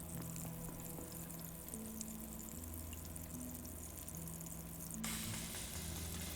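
Food frying in a pan inside the survival game Abiotic Factor, a steady, even sizzle running alone throughout with low hum beneath and a brighter hiss rising near the end.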